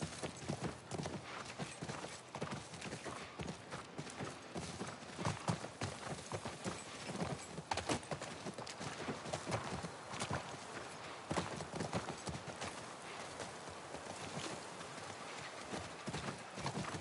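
A horse's hooves clip-clop in a steady walking rhythm in the video game The Last of Us Part I, the hoofbeats fairly faint and even, with no talk over them.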